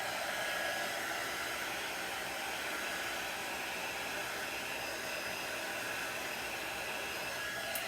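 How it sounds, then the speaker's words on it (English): An embossing heat tool blows hot air to dry chalk paste on a craft project, a steady, loud, even whooshing hiss that runs unbroken throughout. "This is a heat tool. It's mostly used for embossing paper, but it also works great to dry chalk paste."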